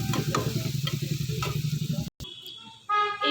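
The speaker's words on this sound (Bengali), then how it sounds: "বেশ কিছুক্ষণ এই পেঁয়াজটাকে নেড়ে চেড়ে লাল লাল করে ভেজে নেব।" Chopped onion sizzles loudly in hot oil in a pan, with a spatula scraping and stirring through it in quick strokes, and the sound cuts off briefly near the end.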